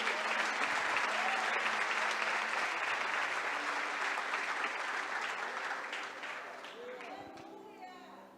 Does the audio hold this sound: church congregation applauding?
yes